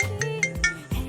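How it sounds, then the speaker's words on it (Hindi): A mobile phone ringtone for an incoming call, a short melodic sequence of loud, distinct tones played close by with no talk over it. "अब मम्मी का फोन आ रहा है"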